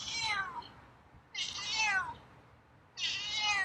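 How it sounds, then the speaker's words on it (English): A feral cat meows three times, each call long and insistent with a falling tone, spaced by short quiet gaps, fairly close. "Meows are louder today. Wow, it's a strong meow."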